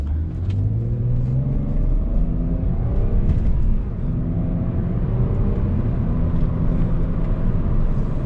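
A 2008 BMW 328xi E90 sedan with the sport package pulls away from a stop, its engine note rising steadily through the gear as a continuous rumbling drone heard from inside the cabin.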